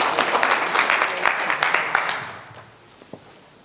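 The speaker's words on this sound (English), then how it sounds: "Yeah, give her a clap." A burst of clapping from a small church congregation, loud at first and then thinning out and fading to a few scattered claps.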